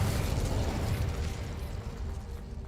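The Confringo explosive spell going off in Hogwarts Legacy, a dense, rumbling blast that stays loud throughout and tapers only slightly.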